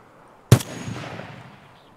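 A single sharp gunshot in the Escape from Tarkov video game rings out once, close and loud, then trails into a long fading echo with no other shots following.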